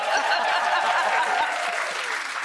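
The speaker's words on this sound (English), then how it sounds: "They just clap and they make people feel welcome and appreciated." A studio audience bursts into applause, a steady wash of many hands clapping close by with faint chuckles mixed in.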